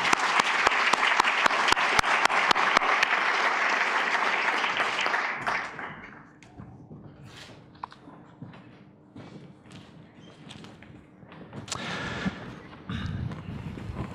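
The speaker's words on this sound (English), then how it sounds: "let's give them a welcoming applause." An audience at a global philanthropy forum applauds as panelists come to the stage, loud sustained clapping for about six seconds that fades into scattered footsteps, thumps and light room noise.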